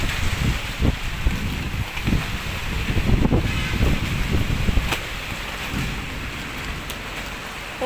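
Heavy monsoon rain pours down steadily like a Mumbai downpour, a loud dense roar of drops with gusts of wind and low rumbles running throughout.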